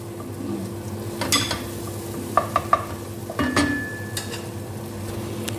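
Cabbage and carrots stir-fried in a pan, a close steady sizzle broken by scraping strokes and three quick metallic taps of the utensil against the pan.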